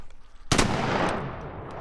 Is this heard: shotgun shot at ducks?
yes